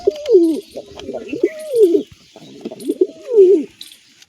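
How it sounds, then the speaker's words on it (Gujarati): A grey pigeon sitting on its eggs gives three deep, throaty coos, each a rolling phrase with a short pause between, loud and close in a quiet setting. "આમાંથી રાખોડી કબૂતર ઈંડા પર બેઠો છે આપણો"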